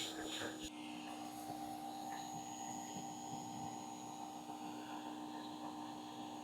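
Shop vac sucking up acorns from a freshly mowed lawn, a steady droning motor hum with airflow rushing throughout, close and continuous, with a brief rattle of debris near the start.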